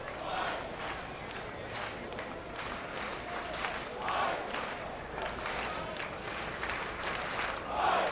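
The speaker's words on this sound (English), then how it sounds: "Crowd getting into it here at Blue Bell Park." A crowd at a college baseball game at Blue Bell Park cheers and yells in a continuous, moderately distant roar, with swells of louder shouting rising at intervals.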